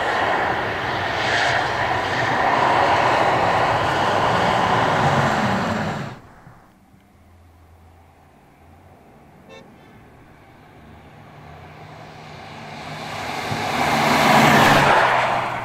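Porsche Taycan Turbo S electric car accelerating on a fairly straight road: a loud rushing drive and wind roar drops away sharply to near quiet, then swells back up strongly toward the end.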